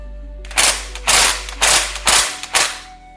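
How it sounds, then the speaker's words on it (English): An impact wrench hammers in five short, loud bursts with brief pauses between them, loosening the 17mm hex transmission drain plug on a Volvo S60. "Thankfully, the impact managed to do it."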